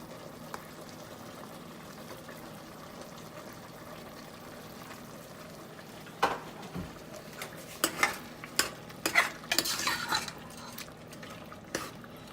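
Tomatoes go into a pan already seasoned with turmeric and salt for Bangalore donne biryani: a quiet hiss, then clinks of a utensil against the pan and scraping stir strokes in the second half, no voices.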